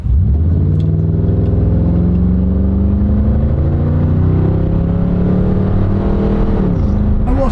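An old car's engine revs up under acceleration on a damp road during a test drive, a loud, steady rising drone with climbing harmonics that dips briefly near the end, no voices.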